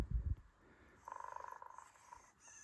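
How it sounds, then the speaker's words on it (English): A Moflin robot pet toy gives a soft, rhythmic mechanical purr, steady and fairly quiet, running for about a second after a brief handling rustle. "Oh, there's the purr."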